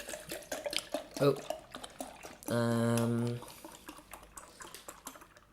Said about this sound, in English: I need 800 millilitres of pineapple juice. Put that in there.